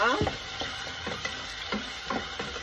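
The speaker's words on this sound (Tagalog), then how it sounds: "So, gigisahin ko muna to." Food sautéed in a pan in the galley of a Moody 425 sailboat before the garlic goes in, with a soft sizzle and a few scraping stirs of a utensil, close and fairly quiet, no talking.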